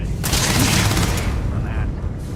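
Enemies fire on the player in Starfield in a dense, loud burst of sci-fi gunfire with booming impacts. The shots run together in a continuous rattle before tapering off.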